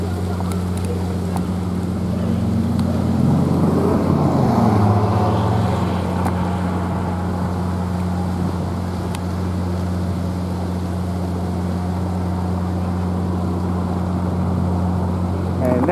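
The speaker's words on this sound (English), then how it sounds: "There's the sheriff boat." A sheriff's boat motor drones steadily with a low, constant hum at Port Tampa, Florida, accompanied by wind noise and some faint background voices.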